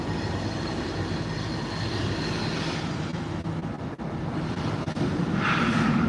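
A CSX freight train hauling asphalt rolls past, a continuous low rumble of railcars and wheels holding steady, with a brief higher wheel squeal near the end and no talking.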